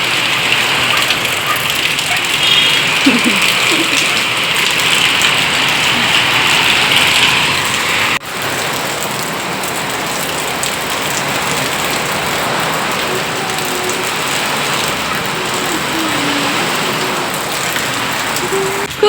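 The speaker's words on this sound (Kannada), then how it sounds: "ಇಲ್ಲಿ ಬರ್ತಾ ಇದೆ ಮಳೆ" Steady rain pattering down on surfaces, continuous and fairly loud, with a brief sharp knock midway.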